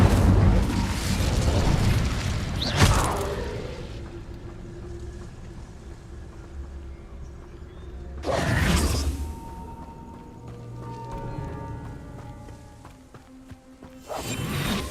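Incendio fire spell cast in the Hogwarts Legacy video game on Switch 2, heard as a few loud whooshing bursts of flame, one early, one midway and one at the end, over a low game rumble.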